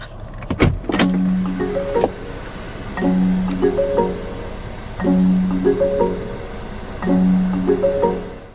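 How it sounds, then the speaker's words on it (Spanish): A Lincoln Aviator's door-open chime plays with the engine running: a soft, melodic multi-note tone sequence repeating four times at steady two-second intervals, clear and close inside the cabin. "Escuchad mi favorito, el sonido que emite cuando abres la puerta con el motor en marcha."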